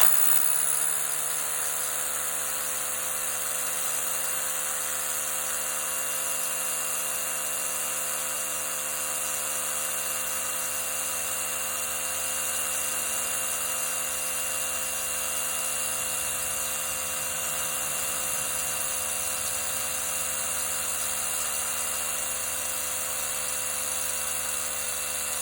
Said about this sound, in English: Dongcheng 7/8 SDS plus roto hammer. We got a 1/2 inch by 18 inch Bosch masonry bit.